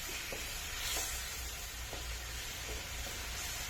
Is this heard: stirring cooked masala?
yes